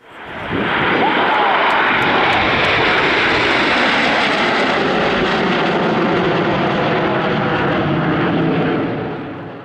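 Frecce Tricolori aerobatic jets of the Italian Air Force on a flyover, a loud, sustained roar that swells in within the first second and holds steady for about nine seconds before easing off at the end.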